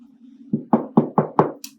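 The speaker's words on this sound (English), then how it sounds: "Kind of sounds like a door when I knock on it." Five sharp knocks on a wooden box lid, in an even rhythm, close and loud, over a steady low hum, followed by a brief faint rustle.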